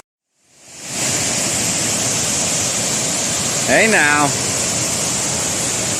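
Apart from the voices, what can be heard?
small waterfall on the Appalachian Trail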